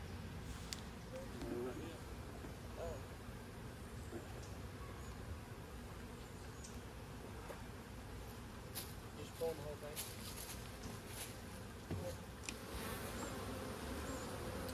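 Steady outdoor buzzing of many honey bees swarming close by during honey harvesting from hives, a dense continuous drone with occasional faint knocks and rustles.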